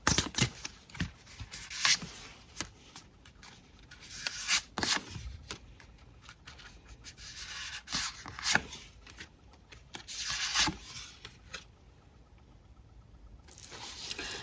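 Tarot cards rustle and slide as they are drawn and handled from a deck, in close, soft bursts of shuffling and brushing with quieter pauses between.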